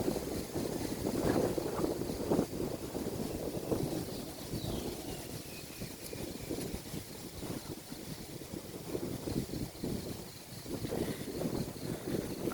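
Strong wind buffets the microphone outdoors near a lake, a continuous rough roar with gusty swells and rumbling that lasts throughout, with no talking.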